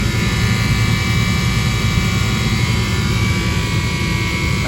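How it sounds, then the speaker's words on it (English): An air conditioner compressor runs at an HVAC unit with no cooling, producing a loud, constant mechanical drone and whirring hum with a steady high whine, heard close up. "Nope, there is a compressor running."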